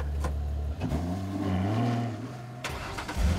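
A Ferrari FF engine cranks and fires up close by, settles into a throaty idle, then revs as it pulls away.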